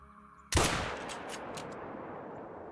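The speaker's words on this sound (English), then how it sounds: "We are going to have to take a standing shot as well." A single loud rifle shot in the hunting game Call of the Wild, fired at a fox, cracks sharply out of near silence and rolls off in a long echoing tail.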